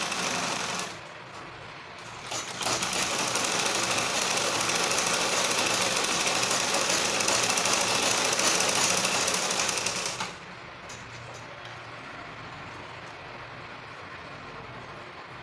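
A sewing machine stitches along the curved seam of a woman's trouser piece, a steady close whirring run that rises louder in the middle and then drops back to a lighter hum.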